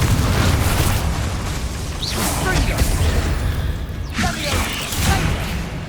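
Confringo fire-blast spells in Hogwarts Legacy burst one after another, loud explosive booms mixed with crackling and rumbling debris throughout a hectic duel, with voices shouting over the action.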